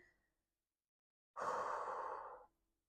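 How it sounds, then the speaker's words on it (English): A single deep breath drawn in slowly from the belly during a relaxation exercise, soft and close, lasting about a second alone in otherwise quiet surroundings. "We're breathing from our belly. So deep breaths in."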